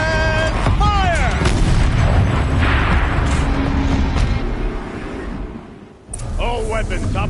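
A turret weapon fires in the video game Horizon Zero Dawn, with heavy booming blasts and rumbling artillery-like reports that roll on for several seconds under a game voice, then fade, followed by more talk.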